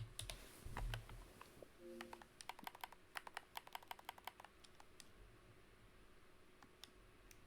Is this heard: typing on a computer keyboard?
yes